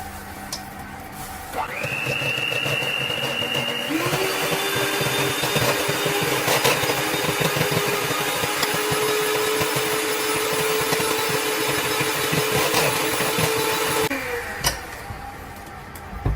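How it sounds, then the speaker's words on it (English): An electric mixer beats cake batter with vanilla extract in a steady, whirring motor drone. It runs continuously for about twelve seconds, its pitch stepping up partway through, before cutting off. "And mix for about 60 seconds until the mixture is light and fluffy."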